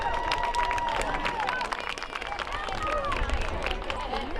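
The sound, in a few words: crowd applause at football game for volleyball players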